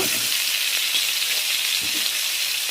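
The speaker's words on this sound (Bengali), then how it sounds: "তারপরে দেব কেটে রাখা আলু, এবার লবণ দিয়ে দিব। এখানে আমি একটু শালগমও দেব।" Cut potatoes and turnip fry in hot oil with cumin seeds in a pan, giving a dense, even, hissing sizzle with a few faint soft knocks beneath it, close and steady without speech.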